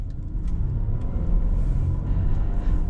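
A Volvo XC60 T8 Polestar hybrid runs with a steady low engine rumble, as if the petrol engine has cut in after an electric start, smooth and continuous at close range inside the cabin.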